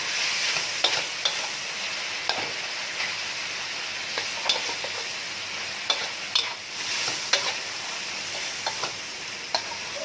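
Pork simmering in a pan with sweet dark soy sauce, a steady close sizzle broken by repeated scraping clicks of stirring, no voices.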